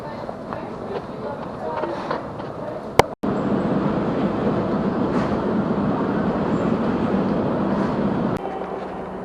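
A metro train rumbles steadily along with a loud, dense ride noise, a brief drop around a stop, and people talking faintly underneath.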